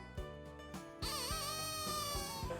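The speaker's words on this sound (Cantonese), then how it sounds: "我示範點樣吹雞好唔好啊？" A handmade clay chicken whistle from Jiangmen is blown with the hole in its tail covered, giving a shrill, warbling tone. Brief hoots come first, then a sustained, wavering call that runs for over a second up close.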